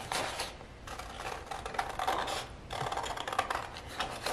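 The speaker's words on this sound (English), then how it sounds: "we'll take our scissors, and this thinner outside line is the one that you want to cut around" Scissors snipping through paper while cutting out a paper heart, close and quiet, with a steady series of crisp cuts and rustling paper and no talk.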